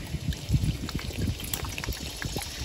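Water pours and trickles into a small camping pot, a steady close splashing and dribbling sound that lasts the whole stretch with no talk.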